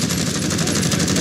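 Rapid automatic gunfire in the video game Call of Duty: Warzone, a loud, continuous burst of shots filling the whole moment with no voices over it.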